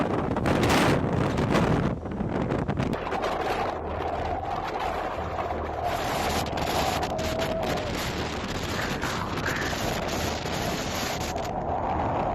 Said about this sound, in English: The footage shows the power of the wind gusts.